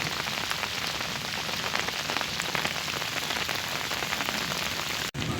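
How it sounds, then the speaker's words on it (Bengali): Steady rain falling on a flooded street in Sylhet where drains are overflowing, a dense continuous hiss of drops on water and pavement, heard alone until a brief cut near the end. "এবং ওই জুড়ে বৃষ্টি পড়ছে।"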